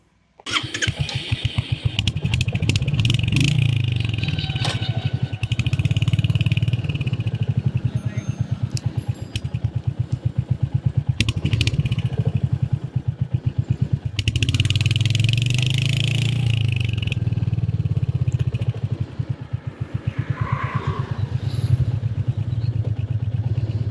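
A Royal Enfield Hunter 350 motorcycle with OBD 2 engine runs steadily while riding, a loud, continuous single-cylinder thrum with brief rises and dips in engine note throughout, no talking.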